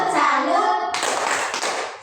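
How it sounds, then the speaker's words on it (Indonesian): Children perform the tepuk salut clapping chant in a classroom teaching session, rhythmic hand claps mixed with young voices chanting along, close and lively. "tepuk salut dulu untuk kalian"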